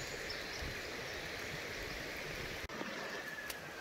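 Creek water running past rocks in the Ouachita Mountains, a steady close wash of flowing water with one brief knock partway through.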